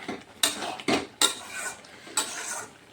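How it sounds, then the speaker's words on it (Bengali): A pot lid lifts with sharp metallic clinks, and a spoon scrapes and stirs simmering taro (maan kochu) in the pot. Several distinct clanks and scrapes come close and loud, with no talking. "মাঝে মাঝে ঢাকনা তুলে তুলে একটু একটু নাড়া দিতে হবে।"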